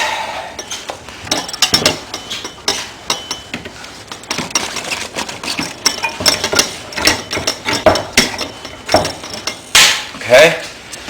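Riveting a replacement ballast into a lamp post housing: a run of sharp metallic clinks and clicks from the rivet tool, some close together and some spaced out, with a louder burst of snaps near the end.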